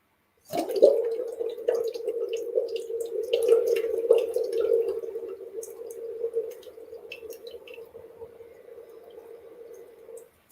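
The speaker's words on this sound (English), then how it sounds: "I can keep on blowing bubbles" Bubbles blown steadily through a straw or tube into water, a continuous close bubbling burble that runs unbroken for about ten seconds and softens toward the end, with no voices.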